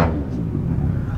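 Engines from a pit bike race rumble outside a window, a steady low drone that stays muffled and distant throughout, with no clear revving peaks.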